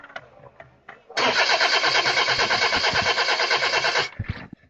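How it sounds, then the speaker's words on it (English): A car engine cranks for about three seconds, with the starter whirring in an even, rapid pulsing rhythm that never catches, loud and close, between short quieter noises before and after. "Car won't start?"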